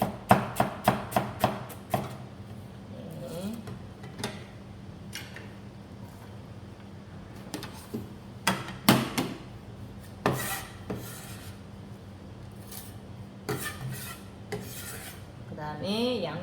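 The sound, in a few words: knife slicing cabbage into thick strips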